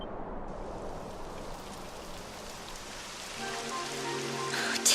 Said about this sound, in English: Typical. It would have to go and start raining, wouldn't it?